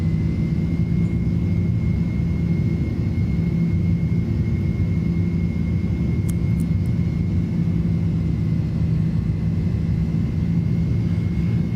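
Airbus A310 jet engines in Microsoft Flight Simulator during a go-around climb, a steady loud low rumble with a faint constant whine above it, running alone throughout.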